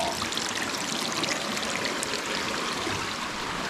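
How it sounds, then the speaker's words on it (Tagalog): Small waterfall along a river stream, giving a steady, close rush of splashing water with a constant broad hiss and no voices. "Pareho yung mga waterfall sa maliliit oh."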